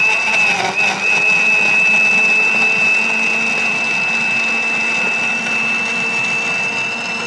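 An electric blender purees a herbal remedy for low blood pressure, giving a steady, close whirring drone that holds evenly for about seven seconds.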